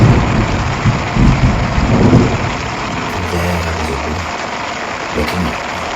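Loud thunderstorm with steady, heavy rain hissing throughout and deep rolling thunder rumbling in the first half, fading to a lower grumble later, with no voices.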